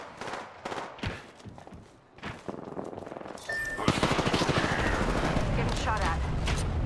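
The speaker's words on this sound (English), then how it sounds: "Getting shot at." Gunfire in Apex Legends during a ranked solo match, with rapid automatic bursts in a dense, sustained string that grows louder and fuller partway through, mixed with game effects and a voice.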